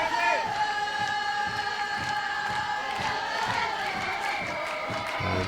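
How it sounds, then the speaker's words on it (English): At a softball final, the Dutch dugout cheers and sings, a crowd of voices chanting steadily at mid distance with rhythmic claps throughout. "And you can hear the Dutch dugout cheering and singing."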